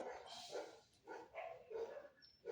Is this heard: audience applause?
no